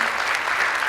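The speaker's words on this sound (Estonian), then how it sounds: "Aplaus, uuesti aplaus, suur aplaus lastele" A brief, dense burst of clapping from an audience at a children's Mother's Day ice-skating school concert, loud and sustained over the full moment.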